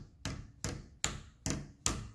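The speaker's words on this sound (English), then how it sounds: "Take your hammer and lightly tap this top portion." Hammer lightly tapping the top of the EGR valve on a 2006 Subaru Forester, five sharp metallic taps at an even rhythm, close and distinct, with no speech.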